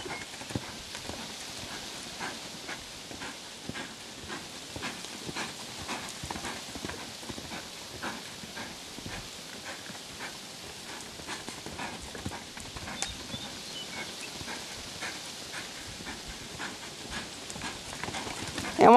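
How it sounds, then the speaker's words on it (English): Steady rhythmic hoofbeats of a loping horse during a riding session, keeping an even, continuous three-beat pattern for the whole stretch, moderately close, with faint breathing and background noise. "Just keep on loping him until he gives to you."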